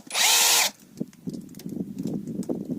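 A ProCraft 42Li cordless saw cuts through ash wood in a brief, loud, high-pitched whine lasting under a second, followed by soft knocks and handling noises.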